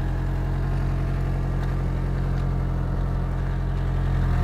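A Toyota Previa engine runs rough and misfires before a spark plug change, a close, steady low idle with an uneven pulsing throb and no talk over it.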